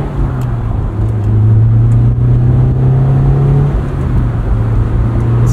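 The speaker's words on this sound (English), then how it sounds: "Idle here is very smooth. Engine is so quiet." A 2003 Honda S2000 with 19k miles idling smoothly and quietly, a steady low engine hum that continues evenly throughout with no other sounds.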